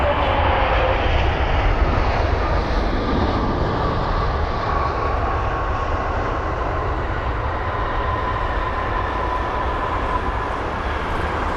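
A Qatar Boeing 777F cargo jet lands at London Heathrow, its engine roar a loud, steady broadband rumble that holds throughout, nearby and with no voices.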